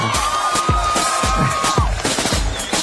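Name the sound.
crowd applauding and cheering for a politician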